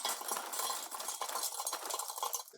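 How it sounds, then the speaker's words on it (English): Lump charcoal poured into the charcoal basket of a drum smoker, a steady close crackling, clinking rush of pieces tumbling for a few seconds with no talking. "and then we're going to get some lump charcoal in there."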